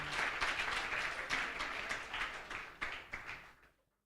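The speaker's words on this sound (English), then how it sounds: "I think Rogers deserves a very strong hand clap" An audience at a youth agricultural conference gives a round of hand clapping, a few seconds of steady applause with some louder individual claps that fade out at the end.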